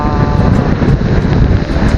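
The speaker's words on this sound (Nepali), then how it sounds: "जङ्गलमा चाहिँ त्यो मजाको हावा चलेको छ" Wind rushes loudly and steadily through a forest in Nepal, buffeting the microphone with a constant low roar.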